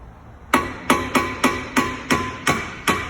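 Hammer blows drive a bolt out of the lower control arm on a 2006 Ford Fusion SEL, eight sharp metallic strikes in a fairly even rhythm, close and ringing, with no voices.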